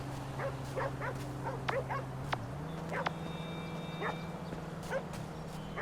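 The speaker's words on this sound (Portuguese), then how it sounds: "Aqui nessa área tem muito cachorro." Dogs bark in the GTA V video game, a loose series of sharp barks and yips against a steady low hum, with short electronic tones near the end.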